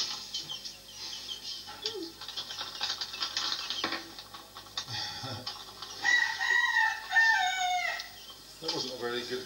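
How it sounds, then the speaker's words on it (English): Cockerel on a farm letting out a weak, odd crow among fluffy chickens, a short strained call amid clucking and mechanical clatter, with people chatting nearby. "That wasn't a very good crow."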